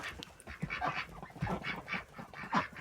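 Ducks on a breeding farm during an evening round in August, giving a series of nasal quacks and honking calls in irregular bursts, fairly close and moderately loud.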